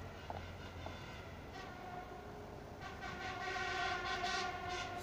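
Aeroexpress train nearing Lianozovo railway platform in Moscow on an autumn day, heard from a distance as a low rail rumble that swells, with horn tones sounding over it.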